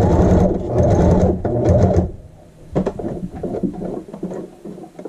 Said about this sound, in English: Let's do our last edge stitch.